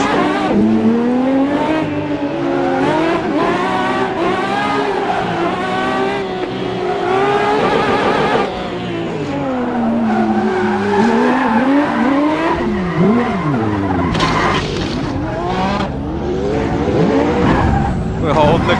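A damaged 1,200-horsepower Lamborghini Aventador on street tyres in the Assetto Corsa video game roars close and loud, its engine pitch rising and falling through gear changes as the tyres squeal and skid, with a voice talking over it.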